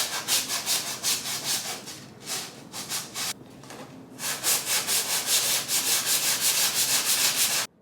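Steady back-and-forth rubbing of sandpaper on wood, rhythmic strokes with a brief pause midway, close and fairly loud.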